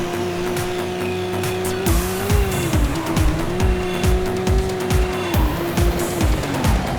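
In the video game Midnight Club 2, a race car's engine roars loudly while its tires squeal in a long continuous screech, followed by rhythmic thumping bursts as the car tears through a high-speed race.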